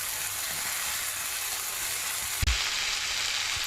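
Tomato masala for a Chettinad fish curry sautés in a pan with a continuous close sizzle, broken once by a sharp clank or stir midway.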